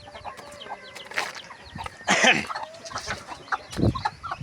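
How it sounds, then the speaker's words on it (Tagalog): A mother hen clucks in short bursts nearby, mixed with other soft farmyard bird noises and rustling. "yung inahin ko nga manok"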